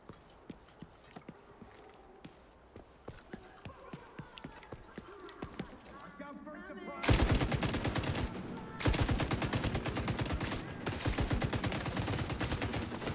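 Rapid automatic gunfire in The Division 2, bursting loud and dense after a quieter stretch of scattered footstep-like clatter, then holding as a sustained rattling volley.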